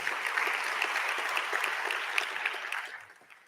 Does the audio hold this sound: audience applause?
yes